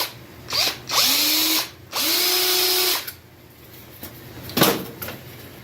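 A power drill widens a bolt hole in the front fender of a 1991 Sportster, in two sustained whirring bursts with rising pitch, separated by pauses and followed by a few clunks and handling knocks.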